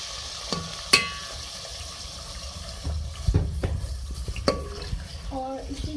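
Minced beef keema stirred and sizzling in a hot pan with golden fried onions, with scattered scraping and clinks of a spoon against metal, fairly quiet and close.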